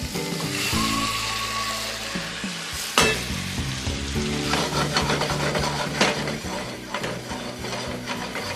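Meatballs and spaghetti fry in oil in a single pan as they are tossed and stirred, giving a steady close sizzle with scraping stir noises and a few sharp knocks against the pan.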